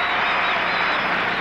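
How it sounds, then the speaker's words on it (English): A big arena crowd applauding a gymnast at the 1980 European Junior Gymnastics Championships, a steady dense wash of clapping that holds evenly throughout. "Well, she's never heard applause like this before."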